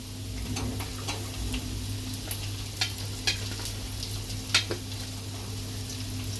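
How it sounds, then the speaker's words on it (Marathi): Sliced onion and capsicum frying in a pan with garlic and chilli for chilli potato, a low steady sizzle under a constant hum, with occasional sharp ticks and scrapes of stirring. "कांदा, शिमला मिरची असं व्यवस्थित भाजून झालेली आहे"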